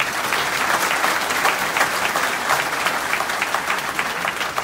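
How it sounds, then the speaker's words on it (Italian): A political rally crowd in Olbia applauds steadily, a dense, loud wall of many hands clapping that holds an even level from start to finish. "Un applauso, grazie."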